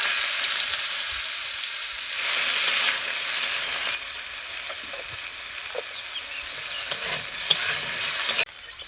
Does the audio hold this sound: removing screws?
no